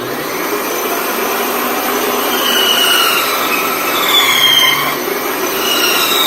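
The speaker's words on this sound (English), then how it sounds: "I'm going to set my bandsaw so that I can cut a groove in it" A bandsaw cuts a groove into a piece of Plexiglas, giving a steady, loud whine with a broad hiss that holds for several seconds, rising slightly toward the end and stopping abruptly.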